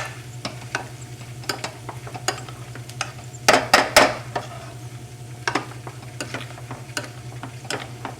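Butter being mashed into potatoes in a pot on a stove, giving a series of soft, irregular squishing strikes, with a louder cluster of mashing midway, over a steady low hum.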